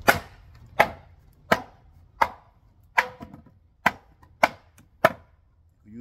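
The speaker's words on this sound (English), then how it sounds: "So we're gonna start off by swinging a hammer on this piece." A hammer strikes a piece of scrap 2x10 lumber to distress it, giving eight sharp, close wooden thuds at a fairly even pace with short decays and quiet gaps between blows.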